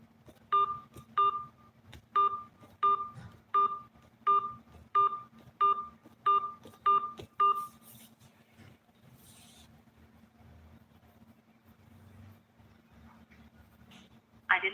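Eleven phone keypad tones beep in a fast even series as a number is entered during an automated travel itinerary call, each a short clear two-tone blip, followed by quiet line hiss and faint background rustle.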